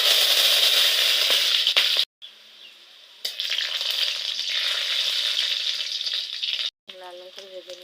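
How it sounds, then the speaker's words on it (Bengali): Garlic and small chillies fry in hot oil in a wok with a loud, continuous close sizzle that drops away briefly twice before resuming. "লাল লাল করে ভেজে নিয়েছি।"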